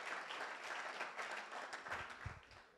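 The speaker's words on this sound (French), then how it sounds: "on lui envoie beaucoup d'encouragement avec vos applaudissements" Audience applause for a startup pitch presenter at a live pitch event in the 93, a steady wash of clapping that fades toward the end, with a few low voices underneath.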